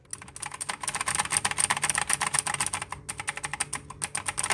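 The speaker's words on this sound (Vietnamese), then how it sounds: "mình để âm thanh gốc để anh em cảm nhận được âm thanh thực tế của bàn phím" Fast, continuous typing on an 87-key mechanical gaming keyboard with blue switches, a dense run of crisp, close clicky keystrokes with only brief pauses, heard alone without any talking.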